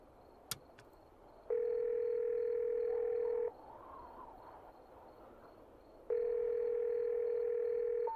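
Steady telephone dial tone from a payphone booth in the horror video game Phych, sounding in two long sustained bursts separated by a quieter gap.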